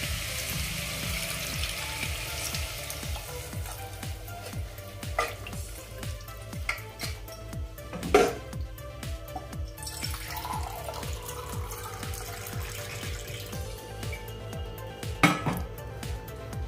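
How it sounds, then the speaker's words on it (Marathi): Water is poured steadily from a glass into a pressure cooker holding soaked mixed dal, a continuous splashing trickle heard close with a few sharper knocks of metal along the way. "मी इथे 2 ग्लास पाणी घालते."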